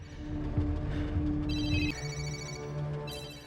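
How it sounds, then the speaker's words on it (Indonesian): Several phone ringtones sounding at once, overlapping electronic trills and tones, moderately loud and layered over a steady background hum. "Ponsel para agen yang tergeletak mulai berdering bersamaan"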